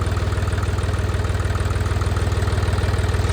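A tractor engine runs steadily while towing on a farm, a loud, close, even low throb with a regular pulsing beat and no voices.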